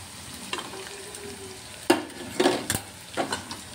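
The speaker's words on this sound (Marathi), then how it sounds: "बघू शकता इथे छान असं तेलामध्ये फ्राय झाले हे" Masala-coated prawns frying in oil with onion sizzle steadily, with several loud scraping clatters of a spatula against the pan in the second half. No speech.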